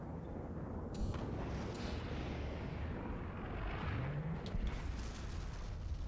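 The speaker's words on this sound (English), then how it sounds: "It's just different explosion sounds." Distant booming explosions on a video game map, muffled blasts and rumbling with a couple of sharper cracks standing out over a constant low roar.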